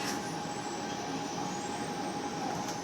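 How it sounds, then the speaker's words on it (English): Onboard a Sydney Trains service on the Illawarra line, a steady rumbling roar of the moving carriage with a faint whine, continuous and fairly close, no talk. "And this train is only going to Sydenham, the one I'm on now."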